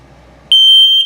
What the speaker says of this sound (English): That's the low battery alarm. Same tone, just slower beep